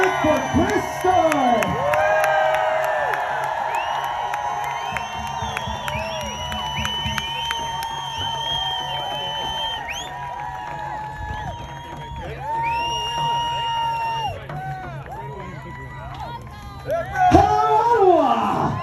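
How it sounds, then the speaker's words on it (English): A crowd at an outdoor rally in Ottawa cheers and whoops, a sustained roar of voices with shouts and whistles rising and falling, swelling again near the end, with a voice on a loudspeaker heard in places. "Can we hear it for Crystal?"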